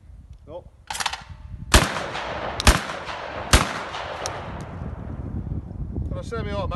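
Three loud, sharp shots from an ATA semi-automatic shotgun firing clay pigeon cartridges, spaced about a second apart outdoors with wind noise, each blast trailing off in a long echo.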